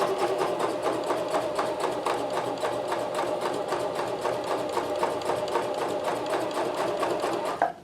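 A Janome CoverPro 1000CPX sewing machine stitches at maximum stitch length, a steady rapid mechanical clatter running close and continuous for several seconds before stopping abruptly.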